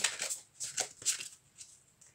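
Oracle advice cards being shuffled by hand come through close and soft, as a series of quick papery riffles and slides that fall in uneven bursts, then fade into lighter flicks with no voices over them.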